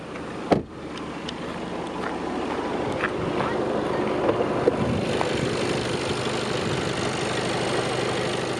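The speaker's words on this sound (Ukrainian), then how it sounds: "І роботу мотору відзніму" A sharp knock at the start, then the 190 hp engine of a 2016 VW Passat B8 Alltrack idles steadily with a low rumble and occasional small clicks.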